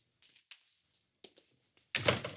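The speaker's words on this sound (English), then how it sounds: "Could you shut the door, please?" An interior door shut with a single loud, close thunk near the end, after a few soft scuffs and quiet movement sounds in a room.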